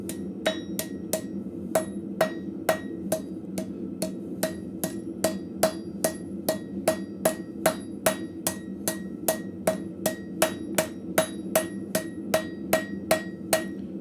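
A blacksmith hammers scrap metal, folding one piece over another to form an arrowhead socket, with a long run of evenly spaced ringing hammer blows, about two per second, over a steady forge roar.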